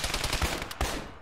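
Rapid automatic gunfire from the military shooter game Arma, close and loud, firing a fast string of shots with a brief pause before another burst.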